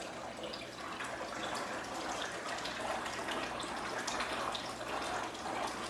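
Water runs steadily into an aquaponic system tank, a continuous broadband splashing and trickling flow that holds at an even level for several seconds with no talk over it.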